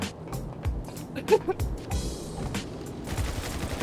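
Gunfire in GTA V Online comes as scattered sharp shots and short bursts mixed with vehicle and game noise, while players talk over it.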